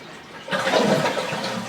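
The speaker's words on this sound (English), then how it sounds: "Shut the water back off to the toilet and go ahead and flush the tank again." A toilet tank flushes after its water supply has been shut off during a fill valve repair: a quiet moment, then a sudden loud rush and gurgle of draining water that continues to the end.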